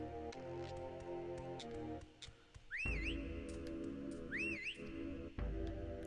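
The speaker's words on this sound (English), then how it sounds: "Okay, I hear it whistling" A Jinjo from the Banjo-Tooie video game whistles two rising, warbling phrases, each about a second long, standing out clearly over steady game music and ticking ambience.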